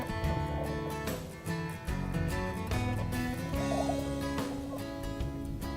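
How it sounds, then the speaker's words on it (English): Male prairie chickens call on a lek in the Kansas grassland, their booming and raucous cackling overlapping in a loud, continuous, pulsing chorus. "Booming is the trademark sound of a prairie chicken lek."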